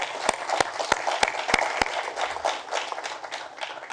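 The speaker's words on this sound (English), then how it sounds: "So next time, please an applause to Joana." At a conference plenary session, an audience breaks into applause: a few crisp, evenly spaced claps lead into a steady wash of clapping from many hands, fairly loud and sustained.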